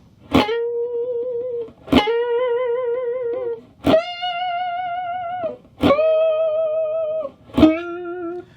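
Five sustained, overdriven electric guitar notes, each shaken with a wide, wavering vibrato. They are separated by brief gaps and ring loud and close.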